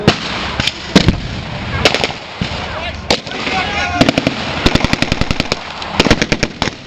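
A Vickers heavy machine gun fires at a battle reenactment during a V.E. Day show at the Royal Gunpowder Mills, with loud rapid bursts and single sharp cracks scattered over a noisy outdoor background while a commentator talks.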